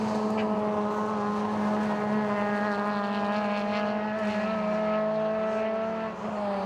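Suzuki Swift rallycross race cars driving a lap, a steady layered engine drone from several cars, moderately distant and continuous, with a slight dip near the end.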